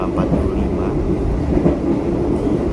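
Ranggajati passenger train running just after leaving Jember station, a steady low rumble and rolling roar heard from on board, continuous throughout without distinct clacks.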